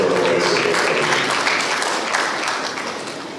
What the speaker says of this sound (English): Please round of applause once again for the